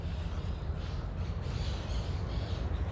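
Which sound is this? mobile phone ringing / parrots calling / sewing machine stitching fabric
parrots calling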